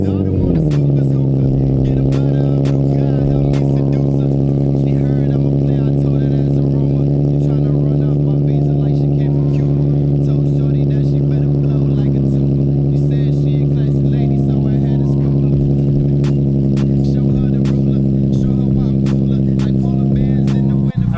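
A Nissan 370Z engine starting from cold, settling into a loud, steady, high idle that slowly drops in pitch, heard close up for about twenty seconds with no talking over it.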